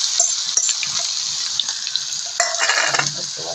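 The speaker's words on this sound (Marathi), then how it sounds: "आपण ते वाटण आहे ना लसूण आणि हिरवी मिरची त्याच्या फोडणीच्या तेलात टाका" A paste of garlic and green chili hits hot tempering oil with cumin and sizzles loudly and steadily up close, with brief stirring scrapes and a sharper crackle partway through.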